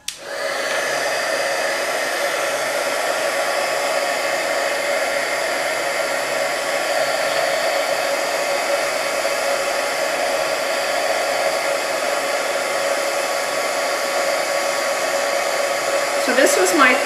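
A heat tool blows a continuous, steady whooshing roar for the whole stretch as a layer of embossing powder is melted for an intaglio technique, loud and close with no talk.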